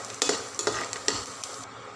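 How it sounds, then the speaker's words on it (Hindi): Small pieces of dried dates are stirred and roasted in ghee in a pan for panjiri prasad, a soft steady sizzle broken by several quick scraping clicks of the spoon, close up. "छुहारे भी हम इसी तरह से घी में भून लेंगे।"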